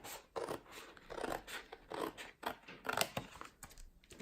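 Scissors snip through grid paper while cutting out a shape for a handmade candle gift box, a close run of short crisp cuts in an uneven rhythm with brief pauses between strokes.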